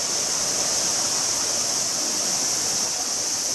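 Waterfall at Shukuya in Moroyama, Saitama, with water pouring in a steady, dense rush that holds constant and fairly loud throughout, with no voices.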